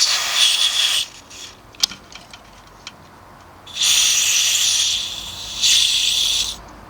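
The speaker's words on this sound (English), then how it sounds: "the hole in the potentiometer where I'm going to squirt this lubricant is in the side" Lubricant spray squirts into a potentiometer to clean a crackly control knob: two sharp hissing bursts of about a second each, close and loud, following quieter small clicks and handling.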